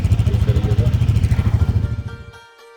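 A motorcycle pulling away on a ride out of Jaisalmer, its engine thumping in a loud, close, rapid rhythm that fades off over about two seconds.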